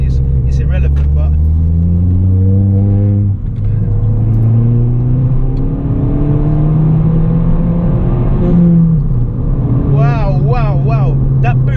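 A tuned Ford Fiesta ST EcoBoost with a Stage 1 Revo remap, about 230 bhp, accelerates hard from inside the cabin, its engine note climbing steadily through the gears while people talk over it.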